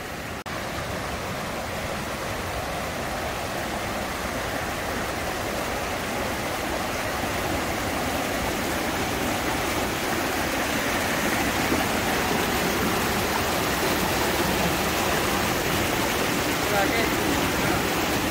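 A river near Casaroro Falls rushes steadily, a loud and constant broadband wash of flowing water from start to finish with no breaks.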